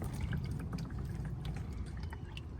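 Engine oil drains from the oil pan of a 2021 Mercedes Sprinter van in a steady, low splashing pour, faint and continuous, with small scattered drips and no talk.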